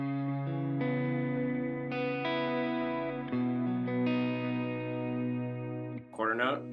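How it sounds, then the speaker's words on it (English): An electric guitar through a Line 6 Helix plays sustained chords and notes with a dotted-eighth delay, the repeats smearing and trailing behind each note, followed by a brief burst of a voice at the end. "I've got a couple delays on here,"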